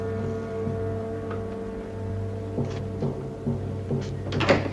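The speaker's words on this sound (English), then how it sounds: "Close the door, please." A door closes in a cheap, unfurnished room in a 1962 wartime TV drama: a few soft knocks and a latch click come near the end, over a steady low hum.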